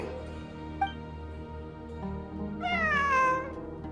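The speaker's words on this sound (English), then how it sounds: "A cat? I think there was one earlier, too." A single cat meows in a Genshin Impact quest, a short sound early on and then a drawn-out, rising and falling meow near the end over a quiet game background.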